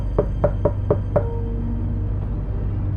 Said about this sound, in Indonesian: Sesampainya di rumah paranormal tersebut, Desi mengetuk pintu